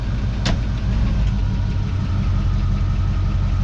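A car engine idles steadily in gear after an oil leak repair, a constant low rumble with a faint knocking rhythm. It is close and continuous, with a brief sharp click near the start and no talking.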